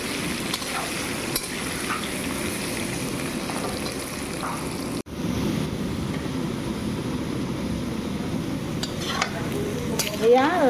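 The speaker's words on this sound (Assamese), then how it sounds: "এয়া মাছৰ আলু ভাজি আছোঁ।" Fish and potatoes seasoned with salt and colouring powder fry in a pan with a constant close sizzle, while a utensil scrapes and stirs through them at intervals.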